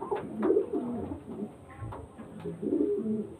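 Old-generation pigeons, kept at a house selling birds, give a run of deep, bubbling coos close by, rising and falling in a few swelling phrases with no talk.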